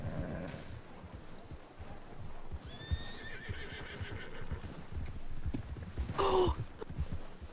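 Horses in the Red Dead Redemption 2 video game whinny and snort over a busy clatter of hooves, with a sharp, shrill neigh standing out near the end against a steady bed of background noise.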